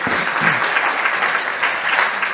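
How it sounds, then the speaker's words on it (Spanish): Audience in a university lecture hall applauds to welcome a speaker at a conference, a dense, steady wash of many clapping hands close by and loud throughout. "Demos un fuerte aplauso"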